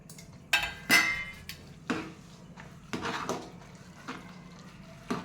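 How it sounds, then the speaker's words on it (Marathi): A spoon clinks and scrapes against a pot as jaggery is stirred into traditional khapli wheat kheer. The sharp, quiet knocks come in irregular bursts with hushed stirring between them. "गुळ घालून मिक्स करून घ्यायचे"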